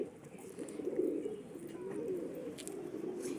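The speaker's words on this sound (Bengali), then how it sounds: "এই যে 17 লেজের পায়রাটা" Domestic pigeons coo in low, rolling phrases, close to the listener and steady over a soft background hum, with a faint flutter now and then.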